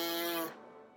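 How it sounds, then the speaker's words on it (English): Lips buzzed as if into a horn mouthpiece, a short bright raspy tone lasting about half a second, then a fading tail, close and alone. "the way that I make a vibration is by buzzing my lips like this"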